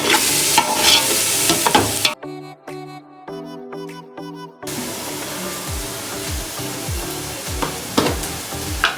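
Biryani masala mixed with chilli powder hisses and scrapes under a stirring spoon in a pot. A stretch of music alone breaks in partway through, then the loud sizzling and rhythmic stirring resume.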